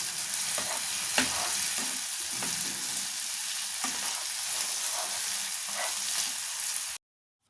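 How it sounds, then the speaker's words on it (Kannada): Steady sizzling of tomatoes frying in a pan, with occasional stirring scrapes, close and continuous with no talking. "ಟೊಮೊಟೊ ಚೆನ್ನಾಗಿ ಫ್ರೈ ಆಗಬೇಕು"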